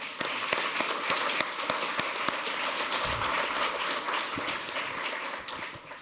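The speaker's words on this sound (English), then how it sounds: "if you could give him a round of applause to say hi to Jordan" Audience applause at a city council meeting, a moderate, steady patter of many hands with a few sharper individual claps standing out, continuing for six seconds.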